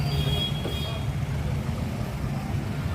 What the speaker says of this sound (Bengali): আমাদের ইন্ডাস্ট্রির সামনে একদম জ্যাম লেগে গেছে দেখুন